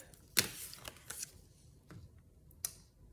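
Sharp snipping and crisp paper rustles come in a few quick bursts, close by and fairly quiet, with short pauses between cuts.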